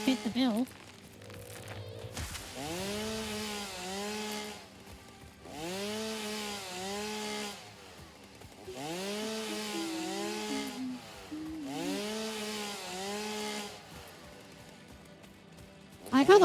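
A chainsaw in the video game Satisfactory cuts down trees in a forest, sounding as about five loud, revving buzz bursts of a few seconds each, separated by short pauses, with no other sound over them.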